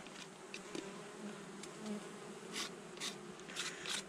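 Honeybees buzz during a hive inspection in March, a continuous close drone with individual bees flying past the microphone in rising and fading swells, alongside faint rubbing and scraping handling sounds.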